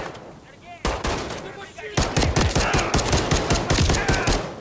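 Gunfire in Modern Warfare III, a rapid string of loud, close shots in quick succession after a few isolated bangs, with someone talking at the start.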